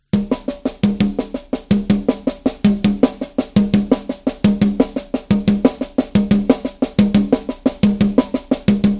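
Fast, steady drum rudiment with single strokes moving across the toms and double strokes on the snare, played in a continuous driving rhythm, close and loud.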